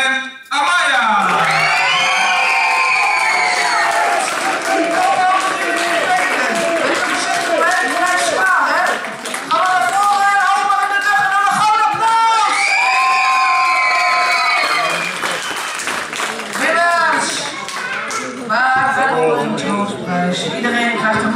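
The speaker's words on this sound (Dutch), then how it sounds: "Heel warm applaus voor Charlotte en Amaya." An audience cheers, whoops and applauds loudly after a dance performance, children's shouts mixed into the crowd noise, with high excited voices rising and falling over sustained clapping throughout.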